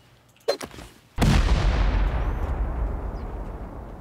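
In a video game, C4 and rocket blasts hit a bunker: a sharp pop, then a heavy close explosion with a long roaring rumble that slowly fades.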